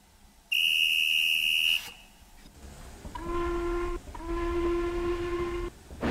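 A steam engine sets off hauling a passenger train, opening with a loud, steady whistle blast, then a rising chuff and rumble as the train gets moving, with a second long whistle tone sounding over the running noise.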